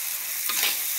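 A splash of water hits luffa stir-frying with egg in a hot pan, and a short, close burst of hissing sizzle swells briefly over the ongoing frying.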